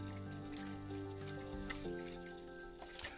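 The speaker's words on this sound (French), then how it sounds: "et là j'ai l'eau qui sort dehors" Water gushes from an open purge valve on an underfloor heating manifold in a steady, close flow, with shifting tonal gurgles as air works through the pipes.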